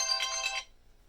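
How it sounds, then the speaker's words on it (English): A mobile phone ringtone plays alone, a bright melodic chiming tone lasting about half a second before cutting off into near silence. "Good lord, my phone just never stops."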